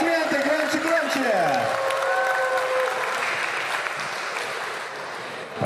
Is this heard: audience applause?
yes